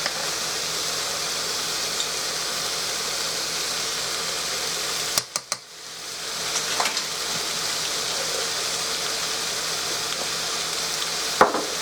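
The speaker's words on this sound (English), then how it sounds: "I'm going to put a little bit of my minced garlic in with this." Chicken stir-fries in a pan with minced garlic, making a continuous even sizzle that dips briefly midway with a few clinks, then returns to a steady hiss.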